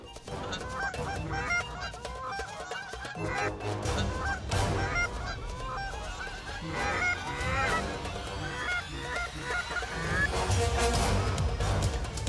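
Geese honking loudly in dense overlapping calls during a goose hunt in Sweden, a continuous noisy chorus of many birds flying low and close, with occasional sharp bangs in the mix.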